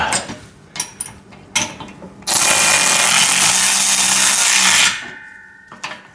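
A power tool tightens bolts on a VEVOR pec deck and rear delt home gym machine, whirring loudly and close for a few seconds, with scattered knocks and clicks of handling before and after.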